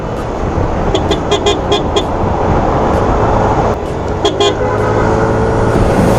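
Short motorcycle horn beeps sound in two quick clusters over loud, steady road and engine noise while riding at about 71 to 72.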